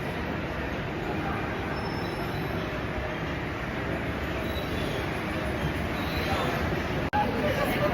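Steady, even ambience at Napoli Centrale train station: a continuous rumble of rail and crowd noise with faint murmur, with a brief click near the end.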